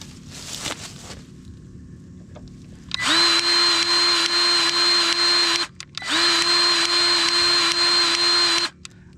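A powered grease gun works the suspension grease points on a John Deere 335P, two long, loud, steady motor whirs of about three seconds each with a brief pause between, some faint handling noise before.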